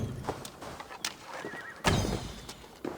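A horse in Assassin's Creed Valhalla whinnies in several sharp bursts, with a louder, fuller neigh in the middle and fainter snorts and calls around it, fairly close.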